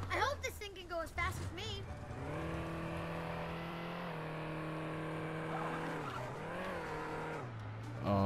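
A car revving and skidding in the Lego The Incredibles video game, a sustained engine whine that rises and dips with tire squeal, heard under and after excited talking at the start.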